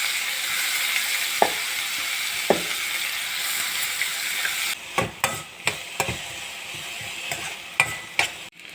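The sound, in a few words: chopped onions frying in oil in a kadai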